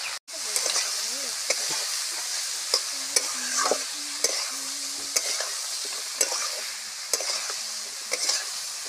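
Fig curry frying in a pan after chili powder, turmeric and salt go in, a steady sizzle with regular clinks and scrapes of a stirring spoon, close and continuous with no talk.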